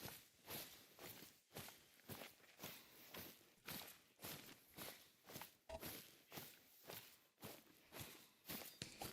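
Footsteps crunch steadily through the terrain of the Call of the Wild hunting game, an even walking rhythm of soft thuds and scuffs at a moderate distance with no voices.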